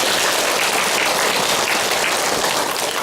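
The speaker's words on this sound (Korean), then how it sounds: "박수로 하나님께 영광을 드립니다" Loud, dense applause from a congregation at a youth worship service in a Korean church, a continuous close hiss of many hands clapping with no break.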